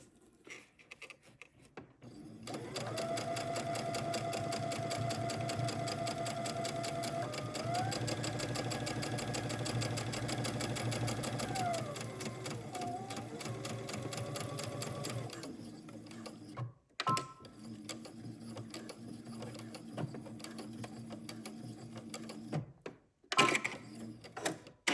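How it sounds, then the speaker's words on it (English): A sewing machine runs steadily, stitching a 1/8 inch edge stitch around dress neckline binding, a fast even whir with a brief change in pace midway, then a shorter second burst after a pause. "we're going to go to the machine and we're going to sew a 1/8 inch edge stitch from the right side all the way around"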